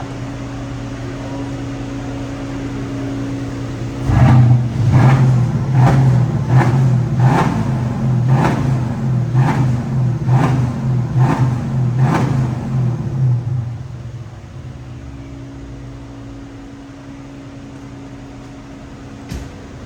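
A Mercedes CLS car engine starts up close by and runs with a rough, rhythmic pulsing for several seconds before settling back to a steady hum.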